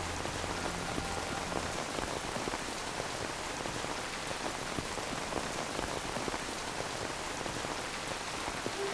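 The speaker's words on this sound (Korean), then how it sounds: "갑자기 내리기 시작하는 비" Rain falls steadily in an outdoor scene from a TV drama, a continuous even patter of drops on surfaces with no voices, moderately loud throughout.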